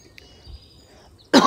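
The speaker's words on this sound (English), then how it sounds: "still that cough is there" A single loud, close cough bursts out near the end, following a quiet stretch with faint background tones.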